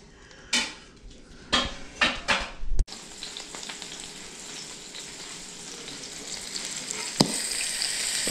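Soft-shell crabs sauté in a hot pan, opening with a few sharp clattering knocks before a steady, close sizzle takes over and hisses evenly to the end, with one brief pop near the close.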